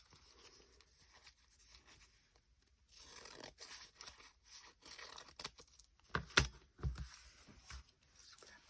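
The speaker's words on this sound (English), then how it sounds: "So I'm trimming the pink off." Scissors trim pink paper off a scrap notepad in a quiet room, faint snips and paper rustles coming in irregular bursts with a sharper crinkle near the end.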